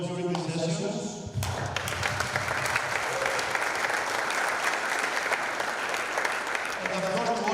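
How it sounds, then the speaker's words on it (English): An audience at the Wikimedia Hackathon 2023 closing session in Athens applauds the speakers. A voice talks briefly, then sustained, dense clapping from a large crowd continues to the end. "one big applause to our speakers who shared their knowledge during these sessions"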